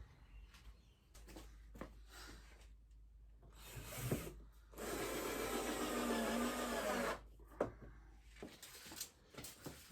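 A power tool drives screws to fasten metal pieces for a cube-shaped sculpture, with a sustained whirring burst in the middle framed by clanks, knocks and handling noises of the metal, no speech.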